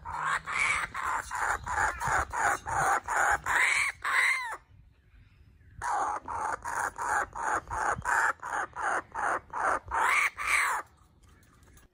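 Loud, rapid bird calls repeat in a steady cackling series, pausing briefly before starting up again; the kookaburra is close and its laughing call dominates throughout.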